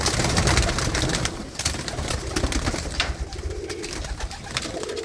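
High-flying breed pigeons coo in soft, repeated low murmurs, close by and continuous amid a busy, rustling background.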